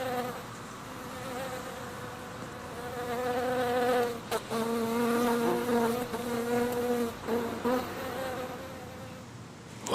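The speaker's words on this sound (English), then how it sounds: "There appears to be a bee on the course." A bee buzzes loudly near the microphone on a course, a sustained droning hum that rises and wavers in pitch for several seconds with short breaks.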